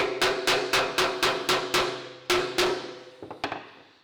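A hammer strikes the edge of a 2003 Holden VY Storm Ute body panel held in a vice grip: about ten sharp ringing metallic blows in a steady rhythm, then a few lighter taps, close and loud.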